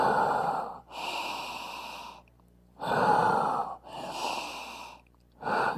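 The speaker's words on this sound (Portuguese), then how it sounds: "vai inspirar e soltar pela boca" A person breathes deeply in and out through the mouth, hands cupped, in an anxiety-relief exercise: two slow, close, airy inhale-exhale cycles with brief pauses between them and no talking.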